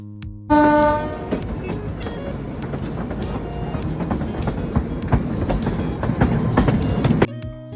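A train horn sounds loudly at the start near a tunnel on the Shimla line, followed by the rhythmic clatter and rumble of the rolling train.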